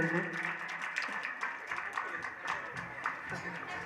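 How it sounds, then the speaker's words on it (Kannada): An audience claps at a school's annual prize-giving, soft, scattered applause at a distance mixed with crowd murmur. "ಎಲ್ಲರೂ ಜೋರಾಗಿ ಚಪ್ಪಾಳೆ ತಟ್ಟುವ ಮೂಲಕ ಪ್ರೋತ್ಸಾಹಿಸಬೇಕಾಗಿ ವಿನಂತಿ."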